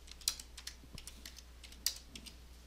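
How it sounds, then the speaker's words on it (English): Computer keyboard typing, with light, irregular key taps close by, a few louder strokes among them and a low steady hum underneath. "A user can type in a new employee's name."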